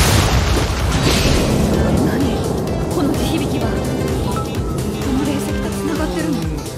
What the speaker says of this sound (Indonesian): Bisa, ini batu bisa meledak.